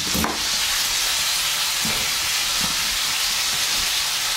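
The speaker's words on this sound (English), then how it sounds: "Now we're gonna let that sear for about 30 seconds." Pieces of goat meat sear loudly in a hot pan, a dense, steady sizzling hiss with a few faint clinks and stirs underneath.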